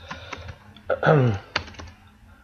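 Code being typed on a computer keyboard, a handful of light key clicks close by, with a short voiced sound partway through.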